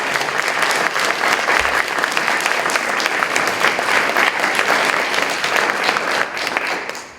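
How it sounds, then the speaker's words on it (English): Sustained applause from a crowd at a school district meet-the-candidates night, steady dense clapping filling the room for about seven seconds before tapering off at the end. "I would need a round of applause for these candidates"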